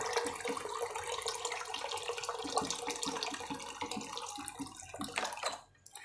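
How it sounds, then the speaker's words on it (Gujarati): About three glasses of water poured into masala khichdi in a cooking pot, making a continuous splashing gush that runs for several seconds before trailing off, close and with no talk. "તો પાણી હું અત્યારે 3 ગ્લાસ જેટલું ઉમેરું છું."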